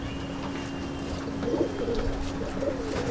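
Kasuri and dabbwale pigeons coo softly in a loft, a low murmuring call rising around the middle and recurring toward the end over a steady background hum.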